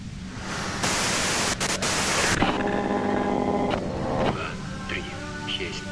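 Radio white noise in the video game Disco Elysium hisses as loud, broadband static that swells and cuts in bursts, with voice-like tones running beneath it.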